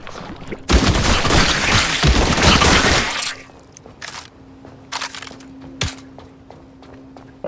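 A burst of dense gunfire from a shotgun in The Last Caretaker fills the first few seconds loudly. A handful of sharper, spaced single reports follow over a low steady hum.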